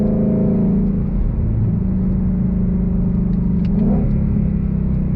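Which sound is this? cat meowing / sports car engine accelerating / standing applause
sports car engine accelerating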